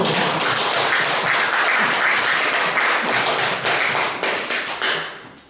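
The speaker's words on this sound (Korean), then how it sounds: "고생했다고 박수 좀 한번 쳐줘요." Loud, dense clapping from a church audience acknowledging a pastor's thirty-four years of ministry, sustained for several seconds before tapering off.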